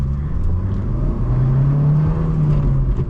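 A Fiat Uno car engine rumbles loudly up close, its low drone rising in pitch as it revs.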